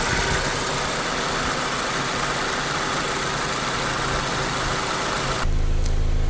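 A 2023 Subaru Forester's engine idles while Berryman intake valve cleaner is fed in, a loud, steady mechanical drone with a constant low hum that shifts in tone near the end.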